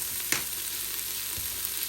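Onion sautéing in an Instant Pot, a steady close crackling sizzle with a couple of soft stirring scrapes over the frying hiss.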